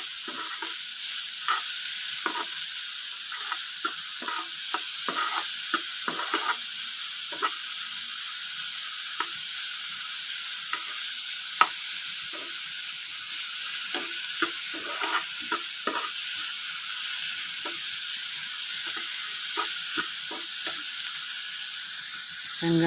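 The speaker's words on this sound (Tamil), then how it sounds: "வெங்காயம் வதங்கட்டும்." Onions sautéing in a pan for paruppu adai dosa, a loud continuous close-up sizzle with frequent scraping stirs and clinks throughout.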